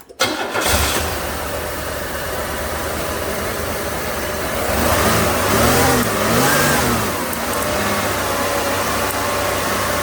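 A 1994 Buick 3800 V6 runs steadily after a misfire repair, loud and close. It cranks and catches at the start, then holds a continuous idle with a brief rev swell in the middle and no talking.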